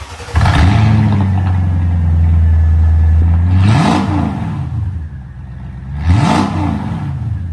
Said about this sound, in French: les 4 énormes pots d'échappement AMG qui ont vraiment un beau son